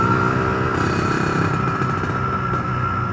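A Yamaha RXZ motorcycle being readied for touring runs steadily close by, its engine a continuous buzzing drone with no voices over it.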